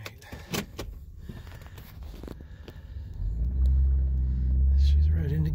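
A Buick Enclave SUV starts out on a road drive, with clicks and handling noises at first, then a low engine rumble that swells and steadies as it pulls away, close inside the cabin with someone talking.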